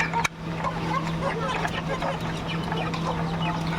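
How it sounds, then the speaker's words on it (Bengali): Desi chickens kept in a rooftop cage cluck steadily throughout, with a constant low hum beneath and a sharp knock near the start. "এই দেখেন আমার দেশি মুরগিগুলা মাশাআল্লাহ বড় হয়ে গেছে আগের থেকে অনেকটাই"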